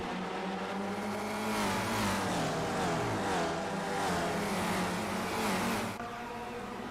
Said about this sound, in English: Revs are building. Lights are out.